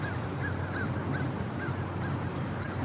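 Repeated honking calls from a flock of geese ring out at a moderate distance on a Washington DC street, over a steady background hum.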